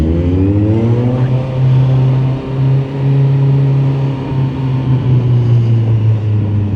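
A big truck passes on the road, its loud, steady low engine drone with harmonic bands filling the whole stretch, heard up close from a motorbike rider's position with wind rush underneath.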